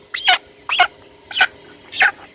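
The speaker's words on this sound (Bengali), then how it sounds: "এই মুরগিটাকে আমি ভিজিয়ে দিব" A heat-stressed broiler chicken gives four short, sharp calls at even intervals, close and distinct with quiet gaps between them.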